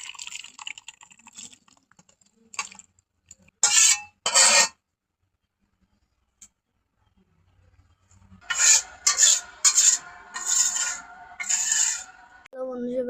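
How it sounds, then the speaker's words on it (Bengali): Cooked papaya and beef curry ladled from the pot into a bowl, with several short bursts of scraping and sloshing separated by quiet stretches. "তরকারি আমার রান্না হয়ে গেছে, এবার আমি বাটিতে ঢেলে নেবো।"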